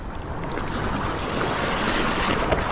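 Choppy sea waves wash around a small fishing boat in rough water, a steady broadband rush mixed with wind buffeting the microphone, continuous and close with no voices.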